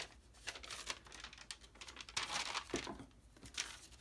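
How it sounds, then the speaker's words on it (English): Scissors snipping through wrapping paper, with soft crinkling and rustling as the sheet is handled, quiet and close, in irregular short cuts without any talking. "So this time I'm cutting this out."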